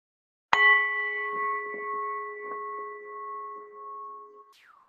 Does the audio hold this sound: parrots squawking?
no